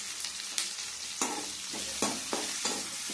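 Onions frying in a pan with a little salt, stirred at a steady pace, giving a constant close sizzle with scraping strokes about every half second and no talking.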